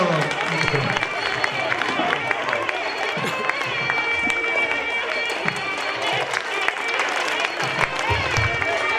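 A crowd claps steadily at a school award ceremony. The applause is mixed with crowd murmur and a high tonal ring, and it carries on for several seconds.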